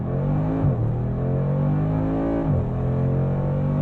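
A 2022 Mercedes-AMG G63 with 577 hp launches hard uphill on a damp road, its loud, close engine roaring in a steady climb, dipping briefly at a gear change before pulling again.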